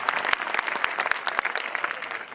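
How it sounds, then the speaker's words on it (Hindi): Audience at a Hindi-Urdu mushaira bursting into dense, sustained clapping, loud and steady throughout with sharp individual claps standing out from the crowd. "मैं चाहता हूँ एक बार ताली बजा करके मुझे माहौल दें"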